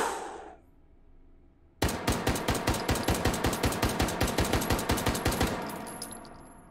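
A semi-automatic rifle in the VR shooter Hot Dogs, Horseshoes & Hand Grenades, after a quiet fading start, fires a long string of evenly spaced, fast single shots, each sharp report close and loud, with no talking.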